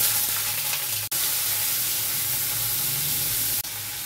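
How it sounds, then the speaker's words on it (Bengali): Chopped onion sizzles in hot oil in a wok with bay leaves, a steady, close frying hiss broken by two brief sharp clicks, with no voices. "এবার পেঁয়াজ কুচিটা দিয়ে দেব।"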